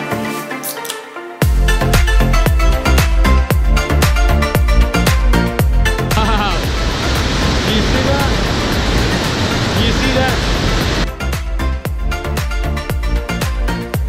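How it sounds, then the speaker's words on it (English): Sopheak Mitt waterfall in Stung Treng Province, Cambodia, the country's largest, gives a steady roaring rush through the middle of the clip. Rhythmic background music with a regular beat plays over it throughout. "That is the biggest waterfall"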